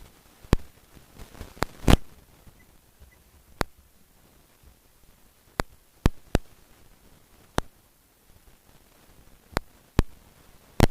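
A steering wheel control button on a Woodman ReloadX car stereo is pressed repeatedly to reject a call, giving a scattered series of sharp, dry clicks at irregular intervals in an otherwise quiet cabin.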